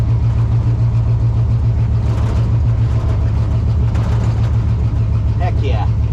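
A 1935 Oldsmobile hot rod drives along with a steady, loud low engine drone running throughout, the rumble holding near and constant.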